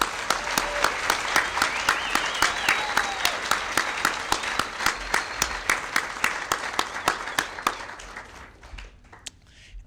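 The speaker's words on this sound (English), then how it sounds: "please give one very big round of applause" An evening college speech showcase audience gives a long round of applause for six speakers, with one close clapper keeping a steady, even beat over the crowd before it thins and fades out.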